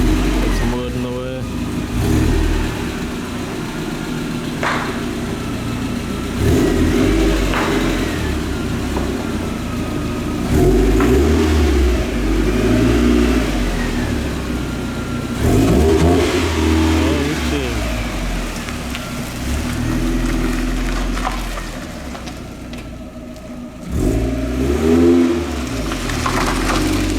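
A Mazda Miata with a welded crankshaft pulls out, its engine idling and revving in repeated surges, loud and close, while people talk over it.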